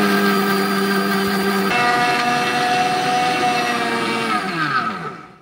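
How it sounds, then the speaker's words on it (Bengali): An electric grinder pulverizes whole spices for homemade shahi garam masala with a loud, steady motor whine and rattling grit. Its pitch shifts once partway through, then the motor winds down to a stop near the end. "এরপর আমি ঢাকা চাপাটা আবারও দিয়ে একটু গুঁড়িয়ে নেব।"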